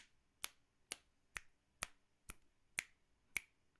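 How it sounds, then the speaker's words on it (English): Seven crisp finger snaps in a video game at a steady, even rhythm, close and clear against near silence. "please stop snapping"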